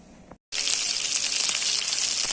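Chicken frying in a little oil sizzles loudly and steadily with a bright, continuous crackle, after a faint quieter start and a brief silent gap.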